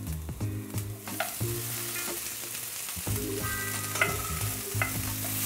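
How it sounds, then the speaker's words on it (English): Potatoes frying with onions in a pan for corned beef hash, an even crackling sizzle with repeated utensil scrapes and clinks as they are stirred, close up and without talk. "So cook the potatoes until they've got some nice colour to them."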